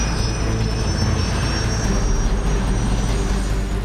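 A loud, steady aircraft engine roar with a high turbine whine holds for several seconds, sounding close, an AW109 Trekker air ambulance helicopter running nearby.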